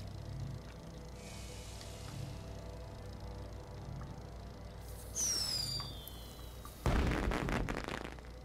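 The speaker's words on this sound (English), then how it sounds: "What, fireworks?" Fireworks launched in the space game Astroneer: a whistling rise sweeps upward, then a loud crackling burst follows near the end over a low steady ambient hum.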